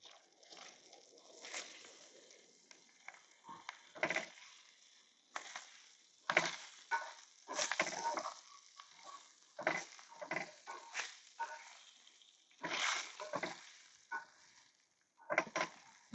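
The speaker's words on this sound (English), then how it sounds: "So we're going to get the Brussels sprouts and the bacon in that oil." Brussels sprouts and bacon frying in oil inside a van, quiet crackling sizzle with repeated bursts of scraping and clatter as the pan is stirred, moments of near silence between.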